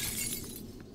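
In the video game Prey, a brief, faint burst of shattering glass rings out with bright, splintering high tones that fade within a second.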